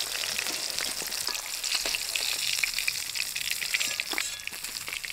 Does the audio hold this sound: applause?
no